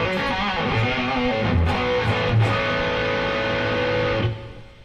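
An electric guitar played through the reverb of a Vola OZ TNC pedal: sustained chords and ringing notes with a lingering wash, loud and continuous, fading out at the end.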